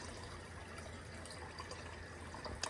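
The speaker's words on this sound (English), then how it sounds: "I fill the water back up in the pot" A cooking pot fills with water in a home kitchen, a steady quiet rushing and trickle that runs evenly throughout without talk.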